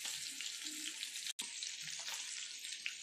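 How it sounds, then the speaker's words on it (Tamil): Prawns fry in hot oil in a pan after being flipped, giving a continuous dense close sizzle with one brief break. "இன்னொரு சைடு திருப்பி போட்டாச்சு, இதுவும் நல்லா வந்து வேகட்டும்."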